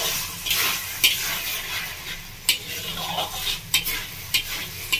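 Mushroom posto cooking in a pan, a soft steady sizzle with repeated sharp scraping stirs and clinks of a spoon against the pan.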